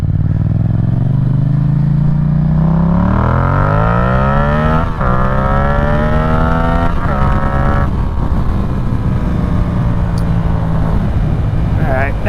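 A Yamaha MT-07 motorcycle fitted with a Yoshimura exhaust accelerates hard, its engine note climbing steadily in pitch through several gear changes, loud and close throughout.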